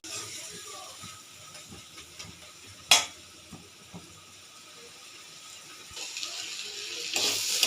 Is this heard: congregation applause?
no